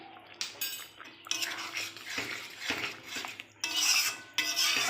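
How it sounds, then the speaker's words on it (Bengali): A spoon scrapes and clinks against a metal pan while stirring a cooked poppy-seed curry with ridge gourd after ghee is added, in uneven bursts of scraping and rattling at moderate level. "তো দেখো ঘিটা দিয়ে একটু নাড়াচাড়া করে নিয়েছি।"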